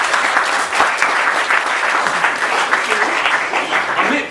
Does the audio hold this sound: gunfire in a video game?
no